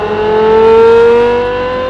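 A Porsche 5.7-liter V10 engine revving close and loud, a smooth rising tonal howl that climbs in pitch, holds, then eases back over a couple of seconds.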